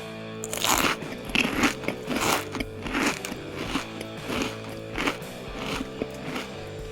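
Repeated crunchy bites into a cured carbon fiber and epoxy granite piece for a CNC machine column, about six close, loud crunches in an uneven chewing rhythm with no talking.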